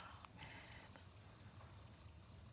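Crickets chirp in a steady, evenly spaced rhythm, about a dozen short high trilling bursts repeating close by over quiet background, with no one talking.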